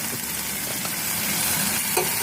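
Pasta stirred and mixed in a frying pan with tomato and a pinch of pepper, a soft continuous sizzle with light scraping stir sounds, fairly quiet and close, with no voices.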